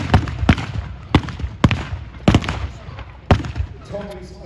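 Sharp gunshots crack out one by one at irregular intervals during a staged First World War battle re-enactment with tanks, loud and fairly close, each shot followed by a short echo and distant rumble.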